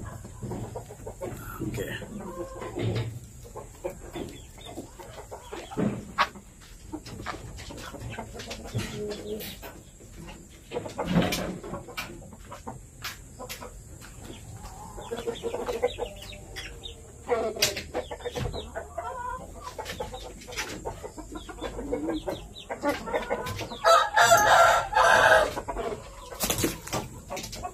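Chickens at a breeding pen, with a bull stag and a hen, give repeated clucks and bird calls close by, getting busier and louder near the end. A person talks briefly among the birds.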